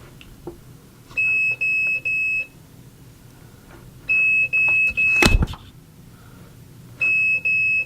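A talking scale gives a low-battery warning: three short, even high-pitched beeps repeated in three groups, fairly loud and close, with a brief sharp knock in between and no talk.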